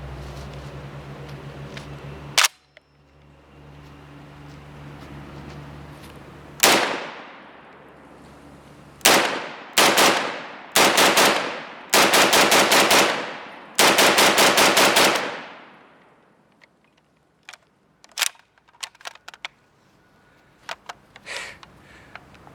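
Loud gunfire from a G3K .308 HK clone carbine, beginning with single sharp shots and then several rapid bursts of automatic fire with echoing tails, followed by scattered quieter pops and clatter near the end.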